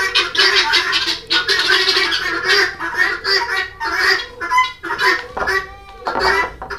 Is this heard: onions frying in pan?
no